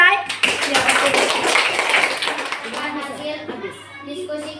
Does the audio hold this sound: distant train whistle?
no